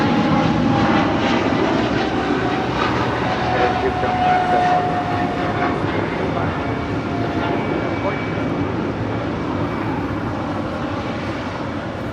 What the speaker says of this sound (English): That is American Airlines Flight 136, departing to London Heathrow on the 777-300ER.